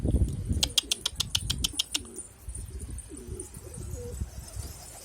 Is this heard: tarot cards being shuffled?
no